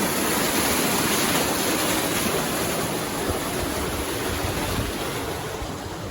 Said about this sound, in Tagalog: Yan, tubig sa ilalim.